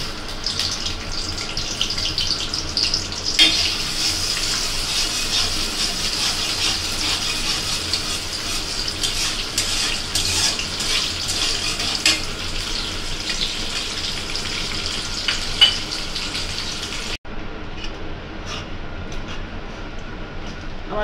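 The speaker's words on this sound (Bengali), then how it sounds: "আমার পেঁয়াজ হালকা একটু ভাজা হয়ে গেছে, নরম নরম হয়ে আসছে।" Chopped onions frying in hot oil in a kadai: a steady loud sizzle and crackle that runs throughout, close by, with a brief break near the end.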